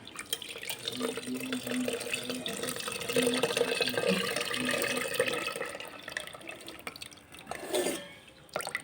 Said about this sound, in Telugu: ఇప్పుడు మనం ఒక దాంట్లో తీసుకున్న చింతపండు నీళ్ళు వేసుకోండి